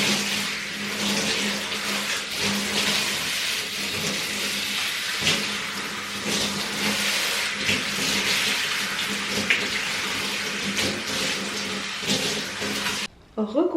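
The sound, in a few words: water running while rinsing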